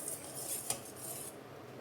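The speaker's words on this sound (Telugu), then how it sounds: "పాలు చూడండి ఈ విధంగా మరగాలన్నమాట. మధ్య మధ్యలో ఇలా కలుపుకుంటూ ఉండాలి." A spoon stirs boiling milk in a pot for muskmelon ice cream, giving soft scraping and a single sharp metallic clink against steady low bubbling, close and quiet with no talk.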